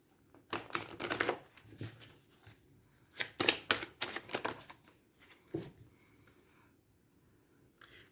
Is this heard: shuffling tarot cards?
yes